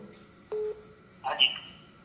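An incoming phone call gives a short electronic tone, then a brief cluster of higher beeps a moment later, faint and over a quiet background with a voice briefly present.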